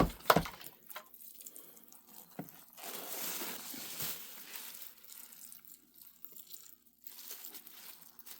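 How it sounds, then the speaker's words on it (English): Water trickles and splashes into a worm compost bin, close and fairly quiet, with uneven pours, drips and small wet crunching sounds scattered through. "I'm going to add some more water so they will be happy."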